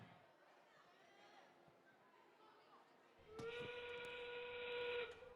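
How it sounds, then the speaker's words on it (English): A whistle sounds at an FTC robotics qualifier to mark the start of the match end game. It enters partway through as a steady, bright tone held for about two seconds over quiet arena background noise. "But now that whistle means we are now into our end game period"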